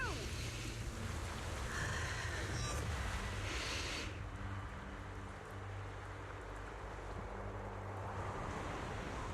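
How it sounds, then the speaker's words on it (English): Wind in the video game Zenless Zone Zero, a steady, fairly loud rushing gust that fills the whole stretch without a break, stronger at first and easing slightly after a few seconds. "The wind. It's shifting."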